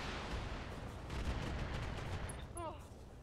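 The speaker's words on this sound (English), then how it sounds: "Why are you shooting at my Atlas?" In the Battletech video game, an Atlas mech comes under a rapid, continuous burst of gunfire that stays fairly faint and distant, with a few short electronic beeps near the end.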